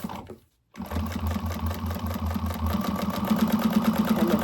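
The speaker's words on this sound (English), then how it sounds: "And then sew it down." A sewing machine stitches down the flap of a slip pocket, running in a steady rapid whir after a brief pause near the start, close and continuous with no talk.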